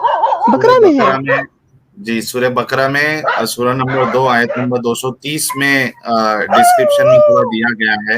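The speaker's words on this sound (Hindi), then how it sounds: "ये कुत्ता कहाँ से भौंक रहा है" A dog barks and howls in the background, mostly masked beneath continuous, animated talk from several people during a heated religious debate.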